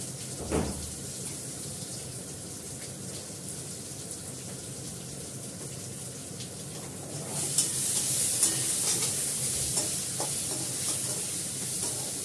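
Fish frying in a pan with potatoes and ginger powder, a steady sizzle with stirring that grows brighter and louder partway through, with no voices over it.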